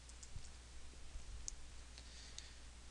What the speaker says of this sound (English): I'm just going to right click on my hard drive